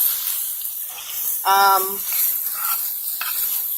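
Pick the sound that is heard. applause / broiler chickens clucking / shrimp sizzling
shrimp sizzling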